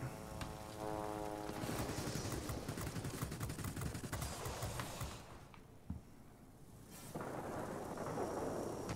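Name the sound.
heavy thunderstorm in World of Warplanes video game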